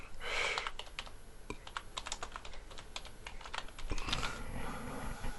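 Rapid keystrokes on a computer keyboard while entering a web search, a steady clatter of individual key clicks close by with a brief pause midway and no talk.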